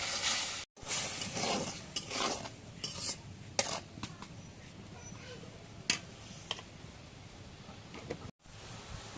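A spoon scrapes and stirs food in a cooking pan just after salt is added, with close, continuous rasping strokes punctuated by a few sharper metallic clinks against the pan and two brief dropouts.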